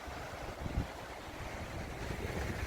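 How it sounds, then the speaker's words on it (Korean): A mountain stream at Seoraksan in Korea, near a campsite, runs with a steady, close wash of water that fills the whole moment, with a few soft low thumps. "물소리가 좋습니다."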